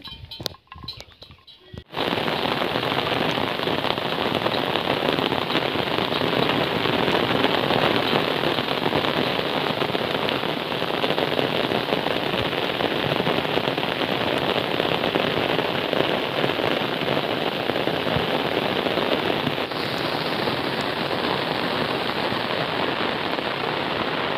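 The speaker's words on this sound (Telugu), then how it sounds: "వర్షం అయితే ఫుల్గా దంచేస్తుంది అనమాట" Heavy rain pours down in hills near Paderu while cattle graze, a dense, steady roar after a brief rattling start, continuing loudly and evenly with no voices.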